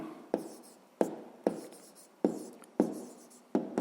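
A pen writes out a fifth-grade math solution on paper in a series of sharp, close scratchy strokes, each starting with a crisp attack and fading, repeating every half second or so.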